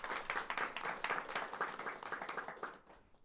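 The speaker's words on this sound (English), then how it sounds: "A round of applause for Graham." An audience at a mayor's speaker series on suburban planning applauds a speaker, with a fairly loud, steady wash of many hands clapping that fades out near the end.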